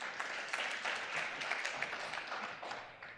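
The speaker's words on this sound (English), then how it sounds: "Can we give her a round of applause?" Audience applause at a stakeholder engagement event in Cape Town, a steady patter of many hands clapping in a hall that fades slightly toward the end.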